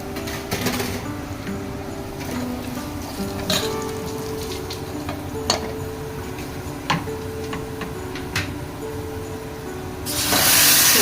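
Hot oil sizzles steadily in a pan as turmeric goes into a tempering for dal, with scattered sharp crackles and pops, close up, swelling into a louder hiss near the end.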